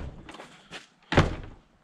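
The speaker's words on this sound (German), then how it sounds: "Zu die Tür." A wooden stable door on a farm shuts with a hollow thud. Softer knocks and bumps come first, then one heavy bang at close range that fades quickly.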